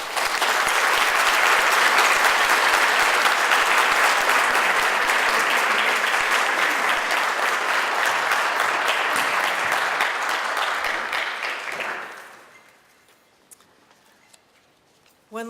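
A large audience at a regional Teacher of the Year celebration gives the honored teachers a loud, sustained round of applause that holds steady for about twelve seconds, then quickly dies away into near silence.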